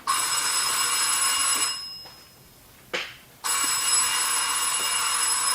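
A telephone bell rings loudly in two long bursts separated by a quiet pause, in a French radio mystery drama, with no voices over it.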